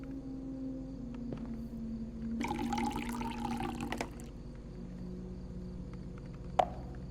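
Water from a tap runs into a cup in Fears to Fathom, a steady splashing pour of about a second and a half over a low room hum, followed by a small clink near the end.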